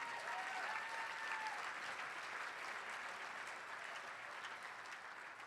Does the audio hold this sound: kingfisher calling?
no